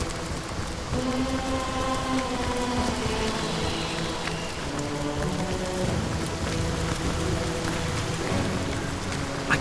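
Heavy rain pours steadily in the Divinity: Original Sin role-playing video game, a dense continuous patter with faint tonal music underneath and no talk.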